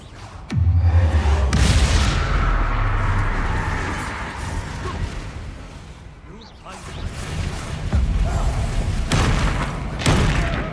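Confringo blasting curse from the Hogwarts Legacy video game, a loud deep boom near the start with fiery whooshing, then a fading rumble and later more thuds and bursts.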